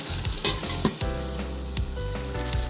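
Snakehead fish stir-fried with curry paste in a hot pan: a steady close sizzle with repeated scraping stirs and light metallic clinks of a spatula against the pan, no talk.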